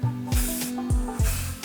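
Several short bursts of hairspray hiss close up over curled hair, quick sprays in an uneven rhythm, with a faint steady hum beneath.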